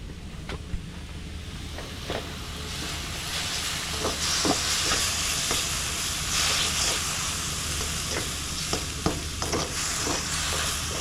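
Pork mince fries in a pan, a loud, steady sizzle and hiss close up, broken by repeated scraping and stirring knocks of a utensil against the pan.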